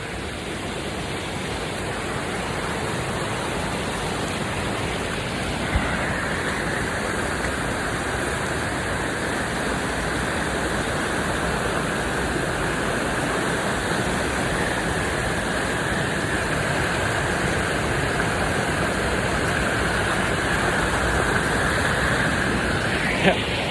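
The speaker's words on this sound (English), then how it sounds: "This water's fast." Fast-flowing stream water rushes steadily and loudly while someone wades through it barefoot, a dense continuous roar close to the microphone with no pauses throughout.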